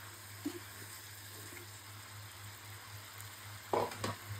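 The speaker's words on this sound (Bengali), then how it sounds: "শিং মাছটা হালকা কষিয়ে নিলে ভালো হয়।" Stinging catfish being fried in spice paste for a potato curry: a faint, steady sizzle under a low hum, with a couple of soft stirring clatters near the end.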